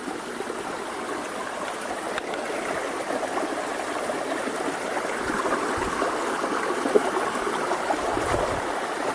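A creek runs over rocks and boulders past a campsite, its steady, moderately quiet rushing and trickling continuous from start to finish.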